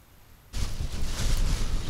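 Cold wind blows onshore at a lakeside fishing spot in spring, starting abruptly as a loud, broad rushing roar that buffets the microphone and stays strong throughout.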